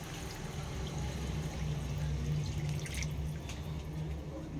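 Water poured from a bowl into a pot of rice with vegetables for Bengali vegetable tehari, a steady close splashing and trickling stream that runs continuously throughout.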